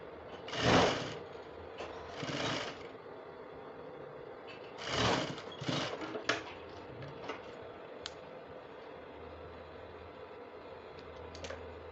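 Sewing machine stitching a sleeve placket on a top, running in short bursts of rapid whirring with clicks and pauses between them, close and fairly quiet.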